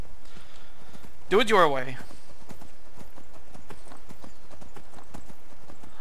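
Horse hoofbeats in Skyrim, a quick regular clip-clop running throughout at moderate level, with a brief spoken line over it near the start.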